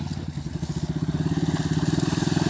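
A motorcycle chugs through thick mud on an off-road trail, its engine thumping in a steady, accelerating rhythm, loud and close with no talk.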